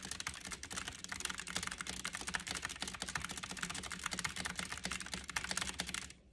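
Rapid touch typing on a computer keyboard: a dense, steady stream of close key clicks that runs unbroken for several seconds, with no voices.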